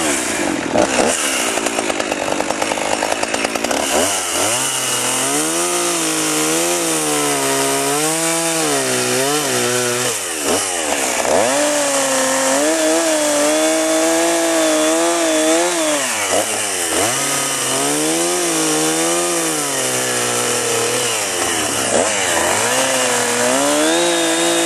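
A gas chainsaw carves a block of wood into an owl, its engine roaring loud and close without pause, revving up and down as the chain bites through the wood.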